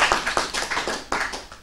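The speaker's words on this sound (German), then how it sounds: "Ja, der Applaus, Herr." A small audience claps at the launch event of the youth project DorfZUKUNFT Burgenland, producing sparse, crisp individual claps in an uneven rhythm that fade toward the end.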